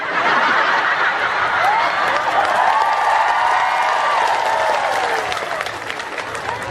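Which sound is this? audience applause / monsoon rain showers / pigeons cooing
audience applause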